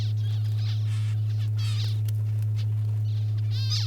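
Zebra finches give short nasal calls in outback Farina, South Australia, several brief chirps in separate bursts over a loud constant low hum.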